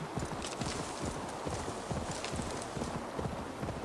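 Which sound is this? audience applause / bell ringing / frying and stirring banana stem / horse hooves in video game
horse hooves in video game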